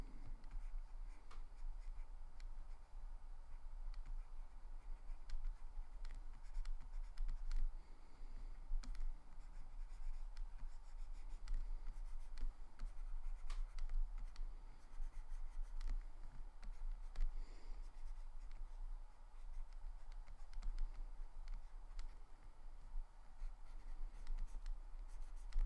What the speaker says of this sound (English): So let's draw this up a little bit nicer for us, eh?